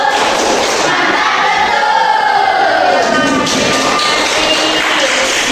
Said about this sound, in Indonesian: boleh kasih tepuk mantul dulu untuk kelompok 1